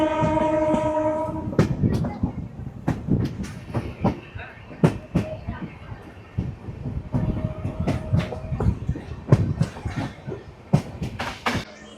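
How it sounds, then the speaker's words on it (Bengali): A local train to Digha pulling into platform 3 at Tamluk station, a steady rumble with clattering wheel clicks and a sustained horn tone near the start, heard close with some voices in the background. "যাবো লোকাল ট্রেন, 3 নম্বর প্ল্যাটফর্মে আসছে।"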